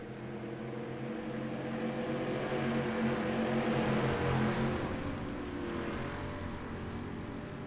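Dirt race cars in an iRacing sim run laps on the Glenn Dirt Tour, a steady droning engine hum holding at a constant level, mid-distance, with no talk over it.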